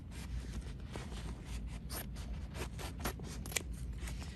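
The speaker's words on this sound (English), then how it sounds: "So I'm just going to cut close in here like this." Scissors snip through cutaway embroidery stabilizer close to the stitching, giving a run of soft, close crisp cuts and scraping blade strokes at low volume.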